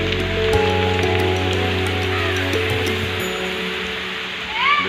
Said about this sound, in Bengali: বেশ জোরে বৃষ্টি শুরু হয়েছে।